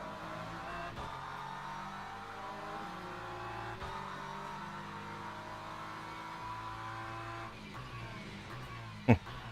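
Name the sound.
hypercar racing at Silverstone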